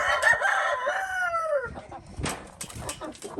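A rooster crows once, loud and close, its call trailing off, followed by scattered clucks and scuffling.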